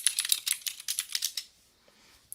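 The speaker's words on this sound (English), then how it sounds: "I'm typing in chat." Rapid keystrokes on a computer keyboard clatter in a quick, uneven burst for over a second, close and crisp, then stop and leave near silence with one last faint tap.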